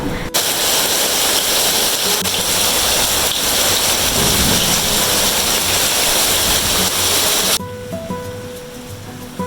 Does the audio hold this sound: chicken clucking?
no